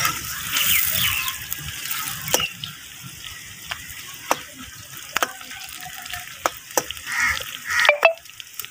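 Chopped onions sizzle steadily in a hot pan, a soft continuous hiss broken by sharp, scattered clicks and taps of stirring.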